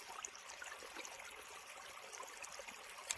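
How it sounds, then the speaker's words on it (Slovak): A forest spring trickles in wet, misty woods, its water running in a faint, even stream with occasional tiny splashes, one small sharp drip near the end, close but quiet. "Teraz pekne tečie ten prameň"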